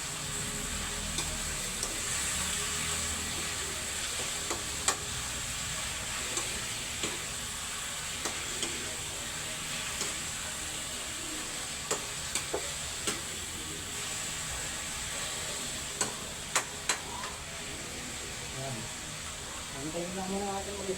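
Chicken sautéing in a pan, with a steady hiss of frying throughout and scattered scrapes and taps of a spoon stirring against the metal, while a person talks in the background.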